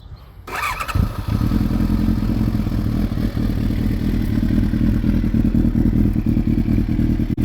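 Kawasaki ZX-9 motorcycle started up and ridden, a sudden engine catch followed by a loud, steady, close-up rumble that holds throughout with slight fluctuations and mechanical clatter.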